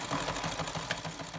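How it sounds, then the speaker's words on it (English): A sewing machine stitches a quarter-inch seam on a cloth mask, a steady fast mechanical whirring with rapid rhythmic needle pulses, close and continuous. "if you've got a sewing machine, you're going to sew it so that you have about a 1/4 inch"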